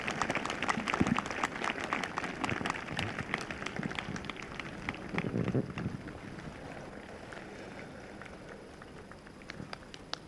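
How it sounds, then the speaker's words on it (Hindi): A congregation at a Sunday evening church meeting breaks into applause, a dense crackling wash of clapping that is louder at first and gradually thins and fades toward the end. "जोरदार तालियों के साथ धन्यवाद दें।"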